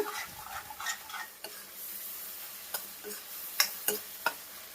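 Ginger paste frying in oil in a pan, with a soft steady sizzle and intermittent utensil scrapes and clicks against the pan, a few sharper knocks near the end, close and fairly quiet.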